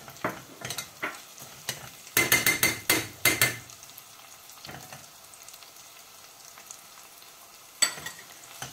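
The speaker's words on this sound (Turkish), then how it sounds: "Bunların da kokusu çıkıncaya kadar güzelce kavuruyorum." Pepper paste and tomato paste sauté with meat in a pot for a dried bean stew, with sharp clattering spoon scrapes and knocks in bursts over a low background sizzle.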